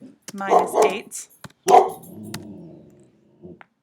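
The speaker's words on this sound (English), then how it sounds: "That's just my dog, don't worry." A dog barks a few times nearby, two loud barks with a short growl-like tail, while a person speaks through and around it.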